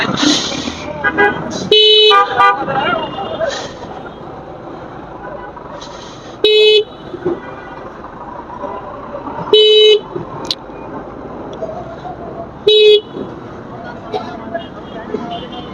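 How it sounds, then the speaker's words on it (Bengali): Heavy Dhaka city traffic jam with a steady road rumble and repeated loud car horn blasts, several short honks spaced a few seconds apart, mixed with passing vehicles and some talk in the background. "একটু জ্যাম থাকবেই স্বাভাবিক অ্যাজ ইউজুয়াল ঢাকা শহর মানে জ্যামের শহর"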